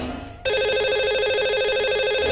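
Telephone ringing through a phone line as a host dials a lucky caller on a live call-in broadcast. A single steady electronic ring tone with a warbling pulse starts abruptly after a brief pause and continues clearly, with no talking over it.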